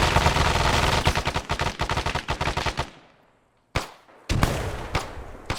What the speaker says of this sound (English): Let me just throw a frag in there.